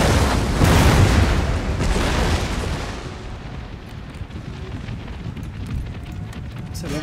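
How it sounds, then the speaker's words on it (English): Mortar and artillery fire in Empire Total War rumbles as a dense, loud barrage of booms that gradually thins into scattered distant blasts and crackle. "It's got my mortars to pick at their foot artillery."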